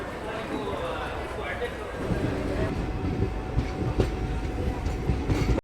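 The Akola-Kacheguda InterCity Express at Basmat railway station in Maharashtra rumbles on continuously with rail clatter and occasional sharp clicks, under a voice talking throughout.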